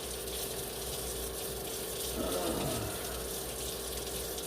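Water runs steadily from a kitchen sink tap while gummies are rinsed under it, a continuous loud gushing and splashing with a brief surge in the middle.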